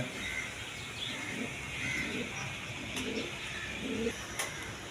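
Tulip pigeons coo softly in a loft, making low repeated calls over faint background noise, with a few light clicks.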